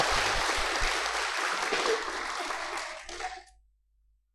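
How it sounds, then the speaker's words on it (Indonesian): Audience applause at a motivational talk on building mental resilience, a steady wash of many hands clapping for about three seconds before tapering off into silence. "Tepuk tangannya dong."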